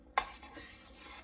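A utensil scrapes and clinks once against a pot as roux is stirred into a salt pork and green bean stew, then soft stirring continues quietly.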